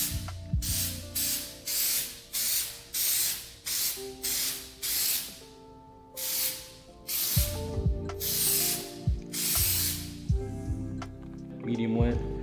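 An aerosol can sprays a coat onto car headlights during a restoration of a 10-year-old BRZ, in a rhythmic series of about ten short hissing bursts with brief pauses, close and loud, while a person talks underneath.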